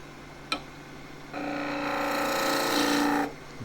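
A skew chisel cuts wood turning on a lathe to shape skittles, a sustained rasping shear lasting about two seconds after a single sharp tap, over a steady low machine hum.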